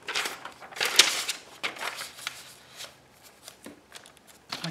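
Scissors trim the edge of paper while making mini journals for an altered book. Several crisp, close snipping crunches come in uneven bursts, separated by short quiet gaps, with no one talking.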